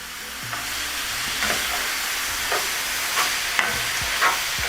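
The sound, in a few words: vegetables sauteing in a pan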